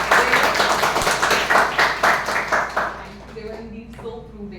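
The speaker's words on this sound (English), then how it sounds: "So please give them a huge round of applause." Applause from a Toastmasters club meeting audience, a burst of rhythmic clapping that fades after about three seconds into quieter sounds and a brief voice.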